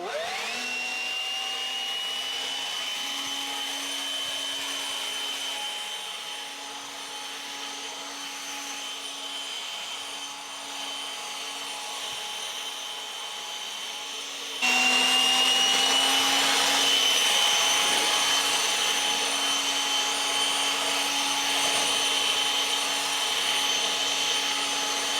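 A Dewalt 60V electric leaf blower runs with a steady high-pitched whine and airy rush, spinning up at the start, then jumping louder midway as it is pushed to a higher setting.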